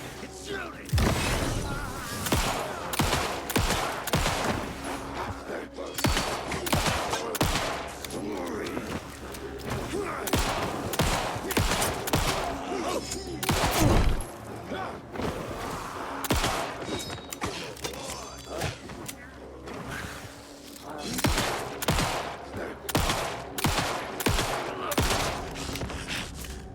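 Gunfire in the video game Alan Wake II, with heavy repeated shots and thuds cracking out in a dense, irregular volley over nearly half a minute, loud and close, with occasional talk mixed in.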